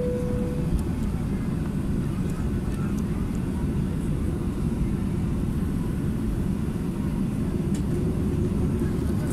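An airliner taxis toward the runway at Katowice-Pyrzowice Airport, heard from inside the cabin near the engine and wing as a steady, broad engine roar and rumble without speech.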